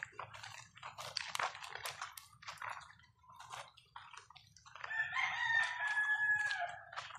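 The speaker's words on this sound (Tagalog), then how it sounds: "Kita niya yung mga manok na yan." Chickens cluck and squawk nearby in short bursts, then a rooster crows loudly in a long drawn-out call near the end.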